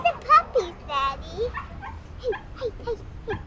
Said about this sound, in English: Look at the puppies, Daddy.